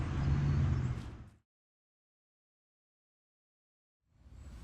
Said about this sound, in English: all these cars are probably making it hard for you to hear me